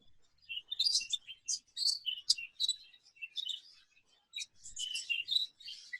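Exhibition budgerigars in an aviary give quick high chirps and warbling chatter in irregular bursts, fairly faint and close, with short gaps between the calls.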